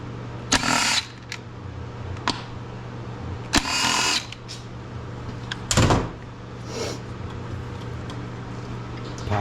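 Several short bursts of a power tool spin out 8mm bolts from the velocity stacks on a Yamaha R6 motorcycle, each loud whir lasting about a second, separated by quieter pauses with faint clicks over a low background hum.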